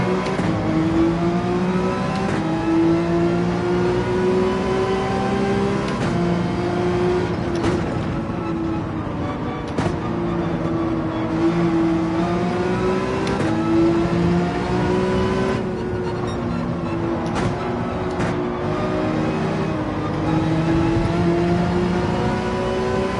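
A Porsche 911 in Gran Turismo 7 races at steady high revs, its engine droning continuously with brief dips at gear changes and no talk over it.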